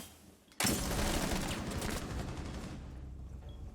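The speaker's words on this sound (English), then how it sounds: "Gunfire is being exchanged" Dense bursts of gunfire in Rainbow Six Siege erupt suddenly and rattle on for a couple of seconds, loud and sustained, then fade into quieter background noise.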